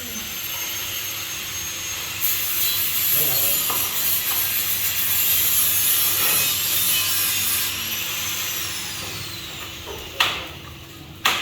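Skim coat being stripped off a wall during a beach house build in the Philippines, heard as a steady, close, harsh rasping and grinding with a thin high whine for most of the clip, then a few sharp knocks near the end.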